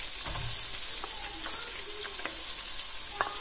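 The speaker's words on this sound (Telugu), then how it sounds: "ఆయిల్ హీట్ అయిన తర్వాత చిల్లీస్ వేసుకోండి. నెక్స్ట్ ఆనియన్స్ వేసుకోవాలి" Chillies and onions frying in four to six tablespoons of hot oil for Kabuli pulao: a loud, dense, continuous sizzle close up, with faint stirring clicks scattered through and no one speaking.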